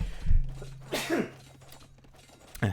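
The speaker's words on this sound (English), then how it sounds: "Sorry, I had to sneeze." A single abrupt sneeze bursts out near the microphone, followed by a low steady hum and a short clatter at the end.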